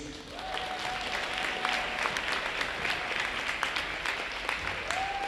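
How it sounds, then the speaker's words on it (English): Sustained crowd applause in a school gym honoring senior basketball players at a Cape Central game, steady dense clapping throughout with a faint whistle-like tone in the background. "please give our seniors another round of applause"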